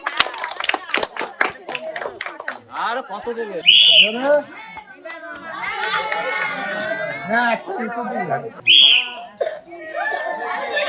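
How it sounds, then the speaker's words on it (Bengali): A short burst of handclapping at a prize-giving after a village game opens the clip, followed by lively talk, laughter and a couple of sharp whistles. "সবাই হাত হাততালি খুব সুন্দর"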